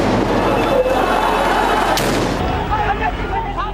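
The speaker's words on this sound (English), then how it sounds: "A series of explosions rip through the air, echoing off the buildings around them." Thirteen grenades go off in a crowded street in Dhaka, making loud booming bursts that echo off surrounding buildings over a constant roar, with voices talking beneath.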